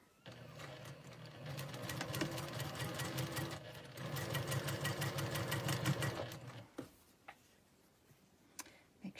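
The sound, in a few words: sewing machine stitching three fabric squares together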